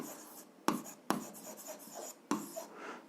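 Handwritten math for a grade 7 algebra exercise, a pen tapping and scratching across paper in short strokes with a few sharper taps, quiet and close.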